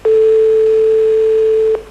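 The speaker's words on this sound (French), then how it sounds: "Première sonnerie." A single steady electronic telephone ring tone during a 1991 French TV game show call, one unbroken tone lasting under two seconds, clear and alone.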